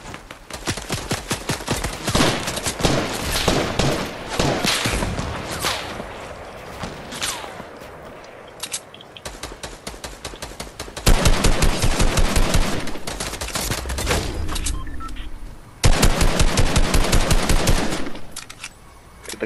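Rapid, loud automatic gunfire from the video game Fortnite rattles in long dense bursts, pausing briefly before resuming, with occasional single heavier shots.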